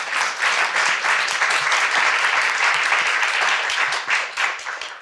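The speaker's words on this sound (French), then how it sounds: "donc on peut vous applaudir pour commencer cette..." A seated audience at a French talk on sisterhood and healing breaks into dense, sustained applause with many hands clapping at once, close and loud, holding steady for the whole stretch before tapering slightly at the end.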